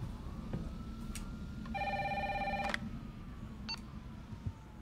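A telephone rings in the Resident Evil 3 Remake video game, a bright electronic trill heard once at moderate level over a steady low rumble, with faint clicks around it.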